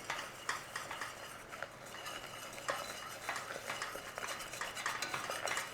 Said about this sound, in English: we want to go in there with a little bit of flour and give that a little stir in